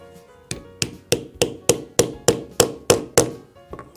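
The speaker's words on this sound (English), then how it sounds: "We'll put it on the anvil, take the driver, and" A metal setting driver is struck on an anvil to set the female half of a snap fastener on a custom knife case: about ten sharp, evenly spaced hammer blows, close and loud, with a quieter final tap.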